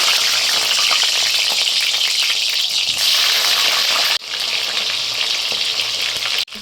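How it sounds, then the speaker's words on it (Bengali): Potatoes frying in hot oil in a kadai, a loud, dense hissing sizzle close to the pan, briefly dipping partway through and then carrying on steadily, with no talking. "আলুগুলো ভেজে নিচ্ছি, তেলটা গরম হয়ে গেছে"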